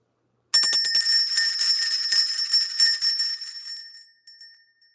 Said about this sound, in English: Let's go ahead and ring this bell.